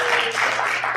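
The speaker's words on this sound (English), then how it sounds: "Let's give him a round of applause." A conference audience applauds an introduced games-industry executive in a steady, dense wash of clapping that fills the whole short moment at close range.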